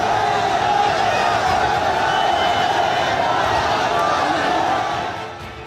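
A large crowd of protesters chants slogans from mosque rooftops in Saharanpur, making a loud, dense, continuous roar of many voices that holds steady before easing slightly at the very end.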